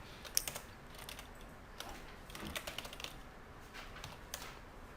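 Someone types a password on a computer keyboard to log in as the root user in phpMyAdmin. Quiet, close, irregular key clicks patter along steadily with small pauses, with no talking.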